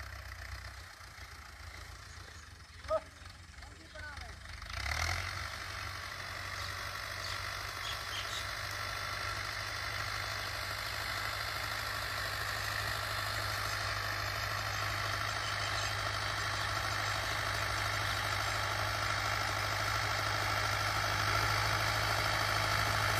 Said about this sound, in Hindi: फीएट 2009 मॉडल ट्रैक्टर है।